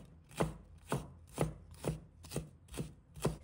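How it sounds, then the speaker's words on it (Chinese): A knife chops fresh ginger into thin shreds on a cutting board, seven even, fairly quiet thuds at a steady pace of about two per second, with no talking. "准备一块生姜，把它切成丝"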